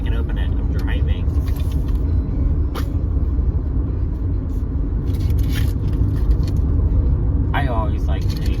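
A car being driven, its steady engine and road rumble running loudly throughout, with a person talking and a few brief crinkly handling noises over it.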